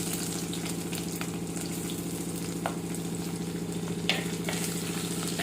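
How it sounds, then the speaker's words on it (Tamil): Fenugreek seeds frying in hot oil for a Kerala-style fish curry, giving a steady close sizzle with scattered faint crackles and pops throughout. "வெந்தயம் நல்லா பொட்டி வருது"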